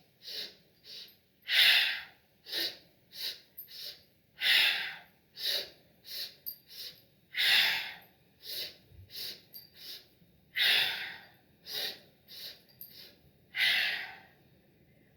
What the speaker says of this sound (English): It's 3 inhalations with your arms out in front, so forward, side, forward, and then exhale.